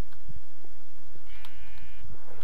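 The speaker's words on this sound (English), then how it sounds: "I hear you, sheep." Sheep bleat in Minecraft's Aether mod, with one clear wavering bleat in the middle set over quiet game ambience and soft footstep-like thuds; no one talks during it.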